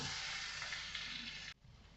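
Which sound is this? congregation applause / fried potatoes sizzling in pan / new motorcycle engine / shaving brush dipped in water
fried potatoes sizzling in pan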